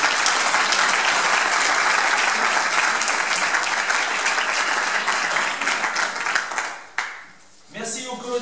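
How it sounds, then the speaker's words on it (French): Audience at a Sainte-Barbe firefighters' ceremony in Les Portes-en-Ré applauding loudly and steadily for about seven seconds, then the clapping cuts off and a voice begins talking. "vous pouvez les applaudir"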